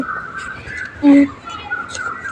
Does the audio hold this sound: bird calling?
yes